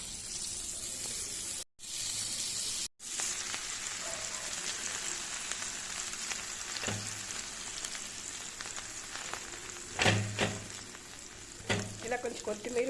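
Pav bread toasting in homemade butter on a pan gives a steady, soft sizzle throughout, with a few brief clatters from handling and short dips in the sound near the start.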